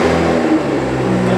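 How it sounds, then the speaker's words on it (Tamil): A BMW Z4 convertible's V6 engine revs hard through its exhaust, a loud, close, throaty burst that stays strong for the whole short moment. "So it's a V6 engine. செம்மையாக இருக்குது அதோட எக்ஸாஸ்ட் நோட்"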